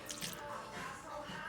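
Water poured into a glitter glue slime mixture, giving wet dripping and squishy sloshing sounds up close, with no talking.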